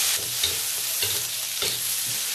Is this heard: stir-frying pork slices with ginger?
yes